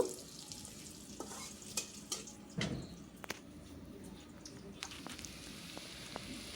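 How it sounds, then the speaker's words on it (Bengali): Paste of red chili, ginger, garlic and cumin fried in a pan for a vetki fish curry, a quiet steady sizzle broken by sharp intermittent stirring scrapes and taps. "পেস্টটা আমার একটু ভাজা ভাজা হয়ে গেছে"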